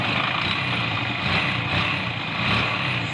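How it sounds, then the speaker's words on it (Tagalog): A motorcycle engine running after a timing chain repair that grew into a top overhaul, idling steadily and loudly up close with a constant mechanical hum and no voices. "napaandar na rin natin itong kanyang motor"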